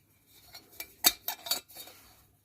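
A small copper pot with handles and feet is handled, giving a few quick metallic clinks and knocks, the loudest in the middle, against an otherwise quiet room.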